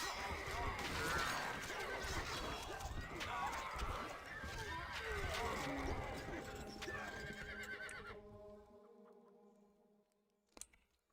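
Video game horses neighing and whinnying amid a dense clatter of hooves and battle noise with horse archers, loud and busy, then thinning to a quieter tail with a sharp knock near the end.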